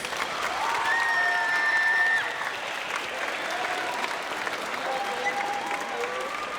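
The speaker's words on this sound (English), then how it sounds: "So a round of applause for all of you parents and family members." Steady applause from an audience at a city-wide band festival fills the space, a dense patter of clapping that eases slightly after the first couple of seconds.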